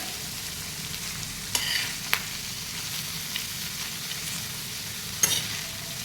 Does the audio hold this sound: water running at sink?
no